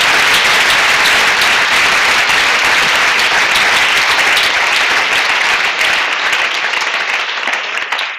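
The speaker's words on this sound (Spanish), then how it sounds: "Un aplauso fuerte al Señor." A Spanish-speaking church congregation claps loudly during a sermon on end-times events, with close, sustained and dense applause throughout.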